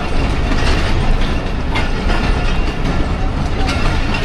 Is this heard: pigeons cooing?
no